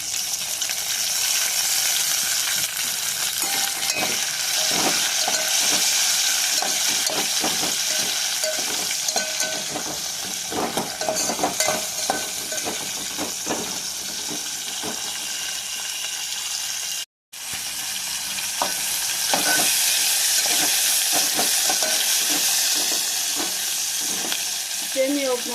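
Onions and tomato fry in a pan for semiya upma, giving a continuous close sizzle with occasional stirring and one brief cut in the sound partway through.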